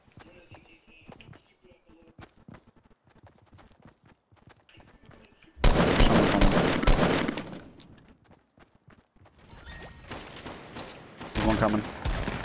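Fortnite gunfire: scattered pops, then a loud sustained burst of rapid shots, and after a lull another heavy volley with crashing impacts. Players talk urgently throughout.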